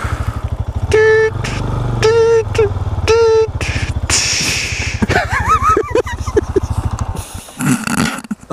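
Mash Family Side motorcycle with sidecar, engine running at close range with a throbbing low idle and repeated revving pulses as it is tested in reverse gear, with a voice speaking partway through.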